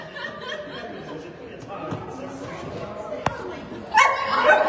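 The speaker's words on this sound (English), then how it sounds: "We have a dog here." At an ice hockey playoff game, a dog barks in short yips amid rink noise and ongoing play-by-play commentary, with a louder burst of crowd noise near the end.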